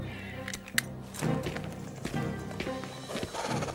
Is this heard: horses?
yes